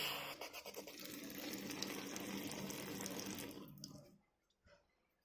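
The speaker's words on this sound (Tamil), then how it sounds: "ஆன் பண்ணுறான்னா மேஜிக்காக தண்ணி வரும்" Water runs steadily from a wash basin tap in a home, a continuous splashing flow for about four seconds before it is shut off, leaving near silence.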